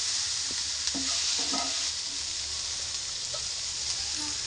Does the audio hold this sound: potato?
yes